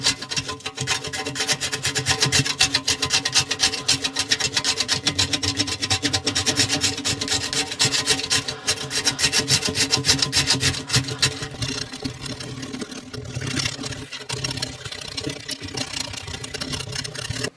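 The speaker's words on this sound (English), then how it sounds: "It's just a wheel, and you roll it." A small screen roller wheel rolled over a patch inside a tractor tire, giving a continuous close, gritty rubbing and rasping that runs steadily for the whole stretch.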